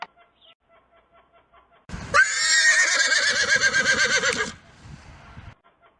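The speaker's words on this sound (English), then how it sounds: "It's a horse." A brown horse gives a loud, close, quavering whinny lasting a couple of seconds, preceded by faint rhythmic ticking and followed by a brief softer tail of sound.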